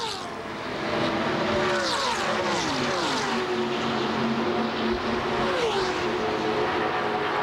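A pack of 1998 NASCAR Winston Cup stock cars laps Daytona during Daytona 500 final practice, loud engines droning and sweeping in pitch as the group comes off a turn, continuous with no talk.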